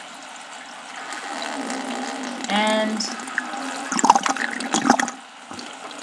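Water surges and gurgles through an aquaponics bucket siphon, a steady rushing flow that swells into bubbling, sucking glugs as it drains, then briefly eases. A voice speaks faintly.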